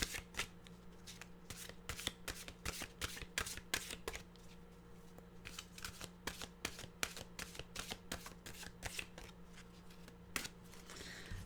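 A deck of mantra cards is shuffled by hand in quick, close repeated riffles, each a crisp flurry of snapping card edges with short pauses between, in a quiet room.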